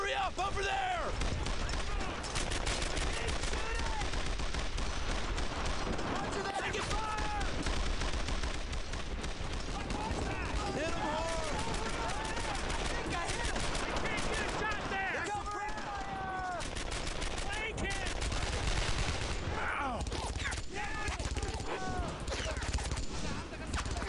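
Dense, sustained gunfire from soldiers in Brothers in Arms: Earned in Blood, rapid overlapping rifle and machine-gun bursts filling the scene with barely a pause, mixed with shouted voices.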